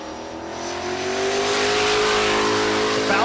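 A turbocharged race car accelerates hard down a drag strip at high altitude during race week, its engine note climbing steadily and loudly for about three seconds with a rising, sustained roar.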